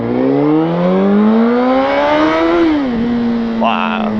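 A 2003 Honda CBR 600 RR sport motorcycle engine revs hard up through its range in one long rising whine, then settles, with a brief voice near the end.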